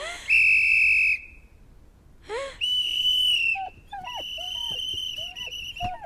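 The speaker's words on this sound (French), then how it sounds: "Il y a un petit sifflet." A small toy whistle blown in short shrill bursts: a long steady tone, a second rising blast, then a run of quick chirping toots, close and loud.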